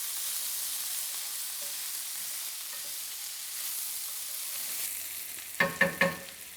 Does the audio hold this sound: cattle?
no